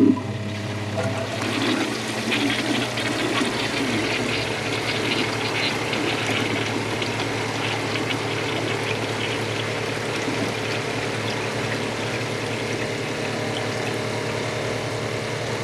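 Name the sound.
Kohler Wellworth Lite toilet flushing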